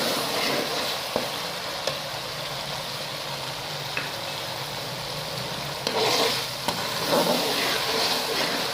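Ground coriander and cumin frying in hot oil for urad dal, a steady close sizzle with occasional clicks and scrapes of a spoon stirring the pan, no talking.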